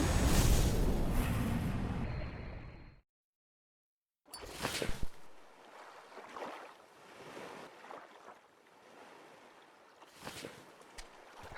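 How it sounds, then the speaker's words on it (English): Paddling a raft across open ocean in the survival game Stranded Deep, with soft splashing strokes and watery wash over a steady wind-and-surf bed, after a louder opening burst and a short silence. "Every time I use my paddle, it shoves me back further off my raft."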